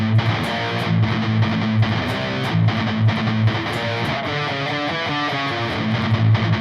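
An electric guitar plays a riff in Phrygian dominant, a distorted, rhythmic run of picked notes over steady low sustained tones, continuous and fairly loud with no talk.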